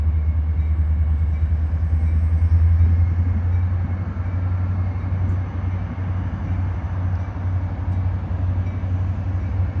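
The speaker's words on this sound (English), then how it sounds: "Here's a Metra Rock Island line train arriving from LaSalle Street Station, Chicago, Illinois" A Metra Rock Island line commuter train rumbles steadily close by at Joliet, Illinois, a heavy low drone with rolling wheel noise that swells and then settles as it pulls in.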